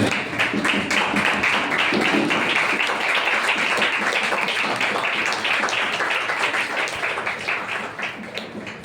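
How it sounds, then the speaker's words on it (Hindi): A church congregation gives sustained, loud applause, with dense clapping close and filling the room before it gradually tapers off. "आइए पवित्र आत्मा का जोरदार ताली के साथ हम धन्यवाद करें।"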